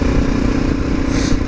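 A motorcycle rides along a road, its engine droning steadily and close with rushing wind noise over the brief stretch.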